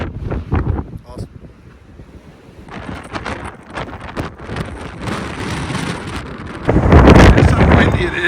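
Strong wind blasts and roars across the microphone at a very windy outdoor spot. The rumble is loud and close and keeps changing, with a sharp surge near the end. Someone talks briefly near the start.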